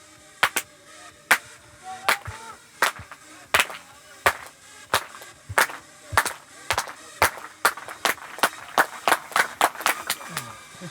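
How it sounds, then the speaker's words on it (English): Crowd at an athletics distance championship claps in unison, sharp rhythmic claps building steadily and gradually quickening, loud and close with crowd noise between beats. "the crowd gets involved with the clap, clap, clap"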